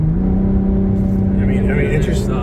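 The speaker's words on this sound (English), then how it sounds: "So now I am in the sport mode, and this truck is getting down the road like nothing." A Cyber Raptor truck in sport mode drives down the road, a loud steady engine drone up close with a rising whine toward the end and no talk over it.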